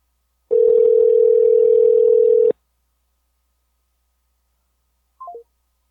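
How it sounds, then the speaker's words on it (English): A single long ring tone from an outgoing telephone call, a steady two-second tone heard clearly alone, followed by a short three-note descending chime. "did you hear the phone ringing?"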